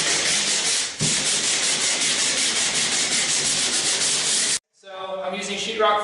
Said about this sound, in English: I want to sand down these screw holes just a little bit